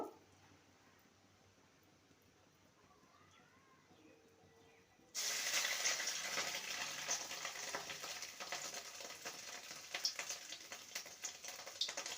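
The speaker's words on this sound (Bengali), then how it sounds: "ভেজে নেব" Fish roe fritters drop into hot oil in a pan: after a quiet start, a loud, dense sizzle bursts in suddenly and crackles steadily to the end.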